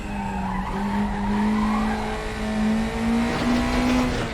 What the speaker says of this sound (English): That drift is definitely the fastest way to take that first corner.